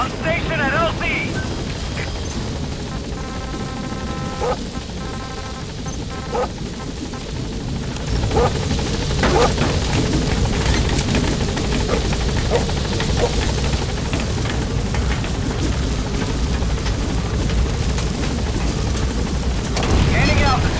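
A P-Quad helicopter arriving at a landing zone in Metal Gear Solid 5, a loud, close rotor thrum and engine roar that grows heavier partway through, with a brief radio beep sequence early on.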